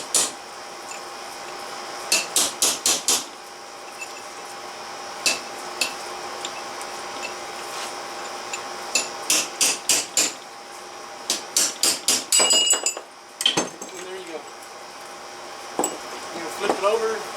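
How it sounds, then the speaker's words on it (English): Sharp metallic hammer blows on a punch knocking out bearing races from a 1987 Suzuki Samurai front axle, struck in quick clusters of several hits with short pauses, ringing against a steady background hum. "all you need is a punch and a hammer"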